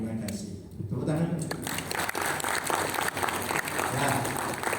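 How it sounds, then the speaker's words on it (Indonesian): Audience applause at an education curriculum dissemination event, dense clapping from a crowd that swells early and holds steady, with voices talking underneath. "Terima kasih. Tepuk tangan."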